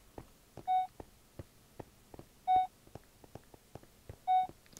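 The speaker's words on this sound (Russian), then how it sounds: "Что-то бипает чуть чаще, чем обычно." Three clear electronic beeps, evenly spaced about two seconds apart, each a steady tone with bright harmonics, in the Minecraft Alien: Isolation game mod. Soft ticking clicks fall between them over quiet background.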